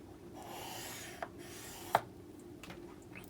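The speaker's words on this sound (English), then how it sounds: "now we are going to score it here" A scoring tool drags along a sheet of patterned scrapbook paper for a mini book, giving a faint scratchy rub followed by a few sharp little clicks and taps, close and quiet with no talk.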